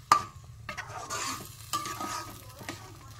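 A spoon stirs prawn curry in a pan after a little water is added, giving a few quick scraping strokes with a soft wet sizzle underneath, close and fairly quiet.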